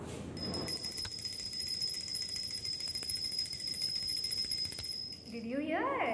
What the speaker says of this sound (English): It was sound of a bell.